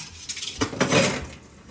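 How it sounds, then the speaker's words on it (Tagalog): Dishes being washed at a kitchen sink, with plates and cutlery clinking and scraping together in a short, moderately loud burst of clatter, close by, with no talking. "Kasi, naghuhugas lang ako dito."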